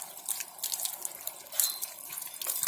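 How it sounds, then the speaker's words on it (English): Water splashes and trickles over a mud-coated RTV HVIC insulator as it is washed, giving a close, uneven patter of drips and small splashes with brief louder gushes, no voices present. "And then I'm going to put some water on this."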